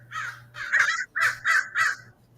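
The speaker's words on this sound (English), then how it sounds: "that sounds like either crows or ravens, and I'm trying to figure out which one actually. Yeah, I think those are crows." Crows outdoors give five loud, harsh caws in a quick irregular series over a low steady hum.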